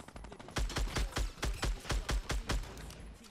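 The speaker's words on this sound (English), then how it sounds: "Oh, they're shooting at each other." Rapid bursts of gunfire in the Fortnite battle royale video game, a dozen or so sharp cracks in a quick uneven rhythm, fairly close and loud with no talking.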